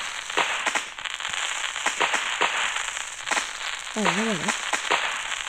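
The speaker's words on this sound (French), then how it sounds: "2 nouveaux feux d'artifice. Voilà ce qu'ils font." Fireworks going off in the Roblox game Brookhaven, a series of crackling bursts and pops with a short whistling rise, while a voice speaks over them.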